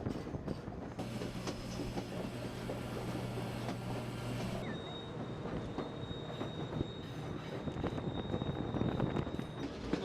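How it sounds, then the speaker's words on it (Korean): A White Pass mountain train rolls steadily along a track cut into a mountainside in Canada, with a continuous rumble, a low hum early on and a thin wheel squeal later, heard from on board. "산 허리를 깎아서 만든 철로를 달리는 화이트 패스 기차."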